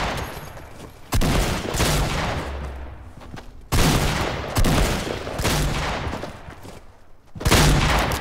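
Rapid bursts of gunfire from a Fortnite Mobile battle, loud and close, with three dense volleys separated by brief lulls and no talking.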